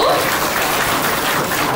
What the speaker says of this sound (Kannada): ಚಪ್ಪಾಳೆ ನಿಲ್ಲಿಸಬಾರ್ದು.